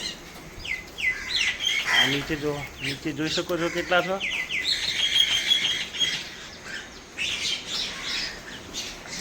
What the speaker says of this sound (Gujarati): આ બાજુ કાગડા ને કાબરો આવી ગઈ છે એમનો ખોરાક લેવા.